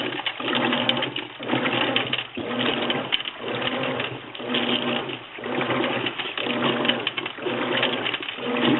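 A washing machine churns a shallow load of water, its agitator producing a rhythmic whirring-thump cycle repeating about once a second, loud and close, with no talk.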